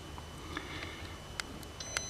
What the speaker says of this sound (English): Just disengage the alarm.